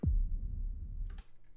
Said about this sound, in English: we get this deep kick reverb